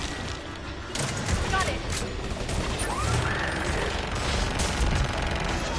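Missile barrage and gunfire in the Mass Effect 3 video game on PS4, a dense continuous roar of explosions and launches with rising whooshes, while voices talk over the combat.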